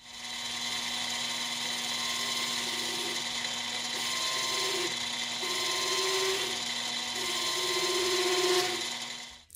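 A cheap knurling tool presses a pattern into a metal workpiece spinning on a lathe, giving a steady mechanical whir with a rubbing, rasping grind that swells in several repeated passes, close and alone.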